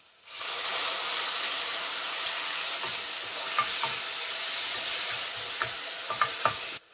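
Crushed ginger, garlic, green chili and tomatoes frying in a hot pan, a loud, continuous hissing sizzle that starts abruptly, with small pops and crackles scattered throughout.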